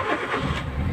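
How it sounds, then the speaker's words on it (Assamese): A Hyundai i10 with a check-engine fault cranks and starts, its mid-pitched engine note rumbling up close and settling quickly toward a rough idle, alone without talk. "এইটো চেক ইঞ্জিন আছে তো এটা আমি স্টার্ট দিম"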